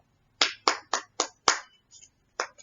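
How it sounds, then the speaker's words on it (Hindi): Scattered clapping from an audience, heard as about seven separate sharp claps in an uneven rhythm, close and fairly faint, with no talk over them. "यहाँ पर लोग ताली बजा रहे हैं इस बात पे।"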